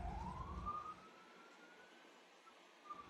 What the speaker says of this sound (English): You hear the fucking siren?